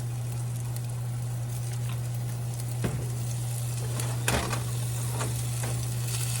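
Hot water cornbread sizzles in hot grapeseed oil with a steady, close crackle and frying hiss throughout, broken by a couple of sharper pops, under a constant low electrical hum.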